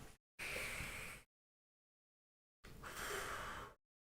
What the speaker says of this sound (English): Let me take a breath.